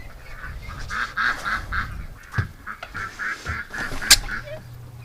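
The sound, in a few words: ducks quacking outside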